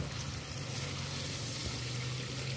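Cecina, thin salted beef, frying in a pan over an open flame for tlayudas, giving a steady, close sizzle with a low crackling hiss throughout and no talk.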